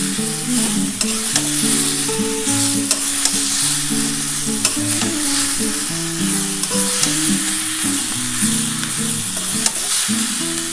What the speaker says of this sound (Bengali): এটা একটু ভাজা ভাজা হলে তারপরে আমি জলটা দিয়ে দেবো